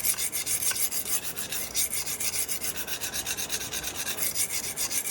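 Steady rhythmic rasping of a cheap steel knife blade drawn across a sharpening stone, repeated strokes with a gritty, scraping texture as the burr tears off.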